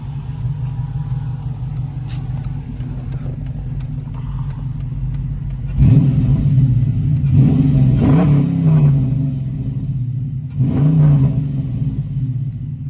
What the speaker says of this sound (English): See what this FLOWMASTER sounds like.